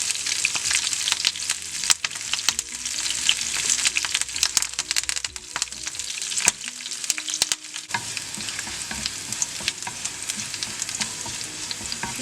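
Ginger, green chillies and curry leaves sauté in hot oil for a garlic pickle, a loud, close, constant sizzle broken by frequent sharp crackles and the scrape of a stirring spoon, with no voices.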